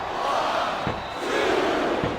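Arena crowd in the WWE 2K24 wrestling video game roars and cheers loudly and steadily, a dense wash of voices with brief swells, with no talk over it.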